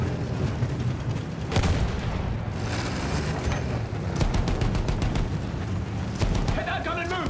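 Field gun artillery in the Battlefield 1 campaign, a dense battlefield din of booms and sharp reports repeating through the whole stretch, with quick bursts of small-arms fire and a voice briefly audible near the end.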